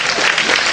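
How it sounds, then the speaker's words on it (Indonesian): An audience at a university gathering in Surabaya breaks into a short, dense burst of hand clapping, loud and close, with no voices over it. "Tepuk tangan."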